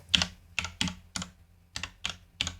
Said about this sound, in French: Alors déjà, ces boutons, ils sonnent bien. Écoutez-moi ça.